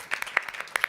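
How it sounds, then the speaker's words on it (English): Audience applause at an on-stage panel conversation about women and sports, a brief burst of scattered claps, fairly loud and close, with no talk. "This conversation has a record amount of applause for any conversation on stage."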